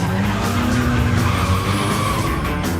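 Subaru WRX tires skidding in a movie car chase stunt: a loud, close squeal of rubber with engine roar underneath, sustained through the short burst.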